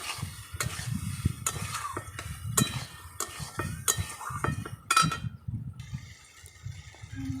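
Curry masala frying in a pan while being stirred and scraped, with repeated sharp metal spoon clinks and scrapes over a soft sizzle, close and rhythmic, ending in a quieter steady fizz.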